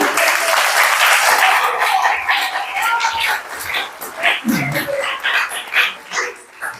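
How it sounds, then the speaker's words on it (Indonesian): A crowd at an Islamic Quran study gathering applauds steadily at first, the clapping thinning and fading out while a voice or two comes through near the end. "Tepuk tangannya lagi."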